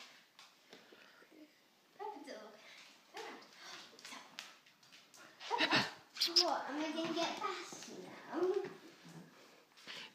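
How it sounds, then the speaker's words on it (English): A dog whines and gives small high yips amid scuffling movement, with people talking nearby. "Oh. Peppa doggy. Oh, Peppa"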